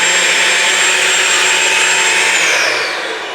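Shark Ultralight PetPro corded stick vacuum cleaner running over a rug, a loud steady whooshing motor drone with a high whine, close and continuous, easing slightly at the end.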